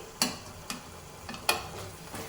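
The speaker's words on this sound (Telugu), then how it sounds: "ఒకసారి వేసాక మళ్ళీ బాగా కలిపేసి" A tomato and fenugreek leaf curry is stirred in a pan, with several sharp spatula scrapes at irregular intervals over a faint sizzle and no voices.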